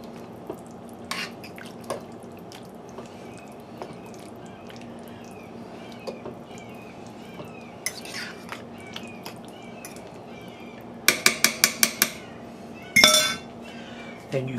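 A spoon stirs a honey bourbon chicken mixture in a crock pot, with scattered soft clinks and drips, then a quick run of sharp clinks against the pot near the end.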